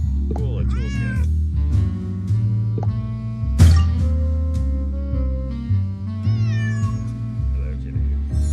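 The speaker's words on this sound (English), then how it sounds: "Yes, kitty, I hear you." A cat meows repeatedly in a Nancy Drew detective video game, with a sharp louder cry midway, set against a steady game music score, while a person talks briefly over it.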